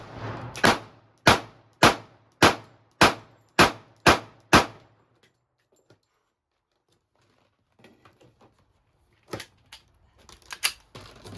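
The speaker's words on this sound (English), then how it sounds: "Keep shooting." Handgun fire from a compact pistol, likely a Springfield Armory Hellcat or Sig Sauer P365: about eight sharp, evenly spaced shots in quick rhythm, then a pause and a few more shots with clatter near the end.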